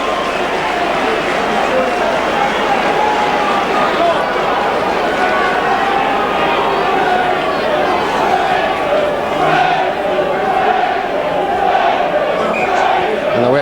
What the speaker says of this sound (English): Wakefield supporters behind me are really cheering now.